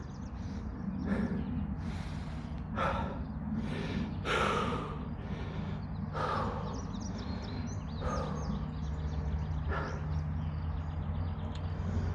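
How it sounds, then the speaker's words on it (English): Heavy, labored breathing of a hiker resting partway up a steep trail on Cedar Mountain overlooking Wethersfield, a steady run of gasping breaths and snorts close to the mic, with faint birdsong behind. "It just keeps going and going up. I have to rest. I can barely breathe."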